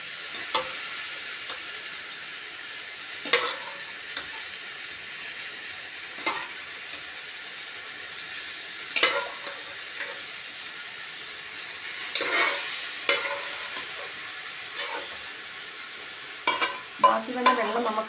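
Onions and pre-cooked beef fry in a pan with a constant soft sizzle, broken by repeated scraping stir strokes at irregular intervals, close and moderately loud with no talking.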